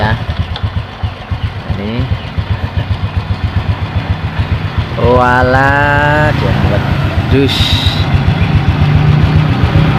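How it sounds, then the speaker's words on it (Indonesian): A motorcycle engine is started after a faulty socket is fixed and then idles with a steady low pulsing. A short rising whine marks the start midway, and someone talks over it nearby. "ini motor bisa di starter kembali"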